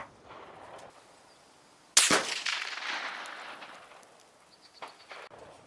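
A single sharp rifle shot fired while testing GP-11 clone hand loads rings out loudly and decays over a few seconds, with a fainter knock afterward and quiet outdoor background before it.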